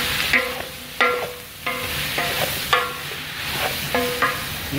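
A spoon stirs beef in a cooking pot for a Filipino beef pochero, scraping and clanking against the metal in a steady series of loud, ringing strokes about every half second.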